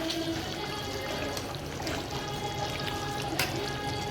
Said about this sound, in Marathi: आता थोडासा पाणी टाकू याच्यात